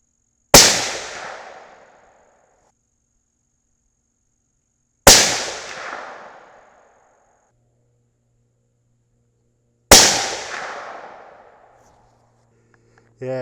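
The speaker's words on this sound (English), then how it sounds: "Let's go ahead and shoot it." A T/C Compass bolt-action rifle in 6.5 Creedmoor fires hot loads: three sharp, loud gunshots spaced about five seconds apart, each with a booming decaying tail, with a faint fourth onset cut off at the end.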